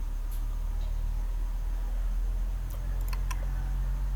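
A few sparse computer keyboard or mouse clicks tap out over a steady low electrical hum, with the sharpest cluster near the end.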